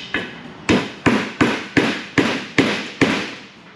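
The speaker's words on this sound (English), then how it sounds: "make sure I'm not gonna break something by hammering against this" A hammer strikes a socket to drive a fuel injector out of an engine, eight sharp metallic blows at a steady, even beat, close and loud.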